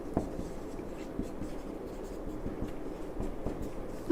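Close, steady scratching of writing on a surface during a biology lesson, with small taps and strokes continuing at an even, quiet level throughout.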